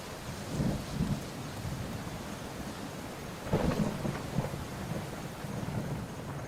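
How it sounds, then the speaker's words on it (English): A thunderstorm with heavy rain falling steadily throughout, broken by two loud rumbling thunder bursts, one near the start and a stronger, rolling crack around the middle that lingers and fades back into the rain. "A thunderous roar shook the ground."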